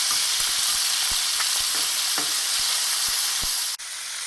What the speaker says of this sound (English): When the searing process is done, it even changes the sound that it makes.